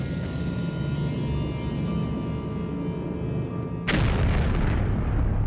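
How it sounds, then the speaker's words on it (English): Two 500-pound American bombs exploding, heard as a sudden loud blast cutting in over a droning background hum and leaving a sustained rumbling roar that continues afterward. "Zarqawi's coordinates are programmed into the flight patterns of two 500-pound American bombs."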